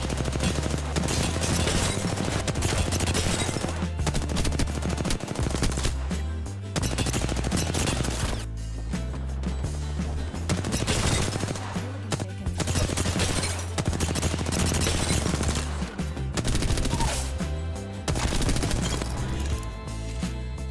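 Apex Legends gunfire: dense, rapid automatic bursts and single shots rattle almost without pause at close range, loud and sustained throughout, with brief lulls between volleys.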